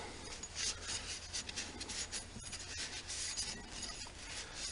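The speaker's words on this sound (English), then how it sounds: "Get them blades nice and clean." Cloth rubbing and wiping across fan blades during cleaning, a soft continuous rasping scrub with faint occasional clicks, close by and steady throughout, with no talking.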